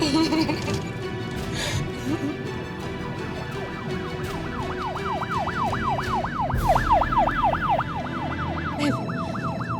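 A police car siren starts up partway through and wails in a fast, regular rise-and-fall pattern over a busy background of road noise and people talking, sounding fairly close.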